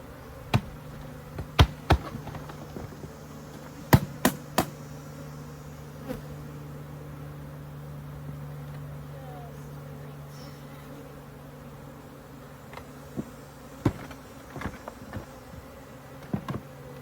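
Honey bees swarm around a bucket during a robbing frenzy after honey extraction, giving a steady low buzzing hum with scattered sharp clicks and knocks near the start and end; no one speaks.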